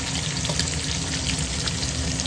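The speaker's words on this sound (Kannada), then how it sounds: "ಒಳಗಡೆ ಇವಕ್ಕೆ ಚಾಪ್ ಮಾಡಿರೋ ಆನಿಯನ್ ಹಾಕ್ತಾಯಿದ್ದಾರೆ." Chopped onions fry in hot oil and ghee for chicken biryani, giving a steady, dense sizzle with a watery crackle that holds at an even, close level throughout, with no voices.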